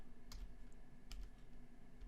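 Two faint, crisp taps on a computer keyboard, Alt and arrow keys pressed while working in a 3D hard-surface modeling program, spaced apart in an otherwise quiet room.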